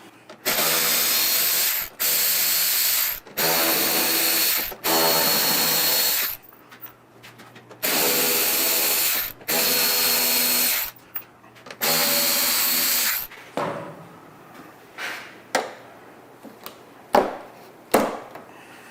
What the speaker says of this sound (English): First thing we're going to do is remove the windshield screws.